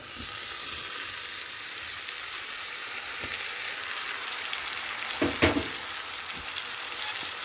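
Ingredients tipped into a hot pan for Assamese-style korti fish, setting off a steady close sizzle that swells briefly with a louder crackling burst near the end.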